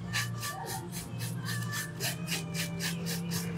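A long taper drill bit on an electric nail file works over artificial nails, giving a steady whirring rasp that pulses in quick regular strokes, close up and continuous, with a low motor hum underneath.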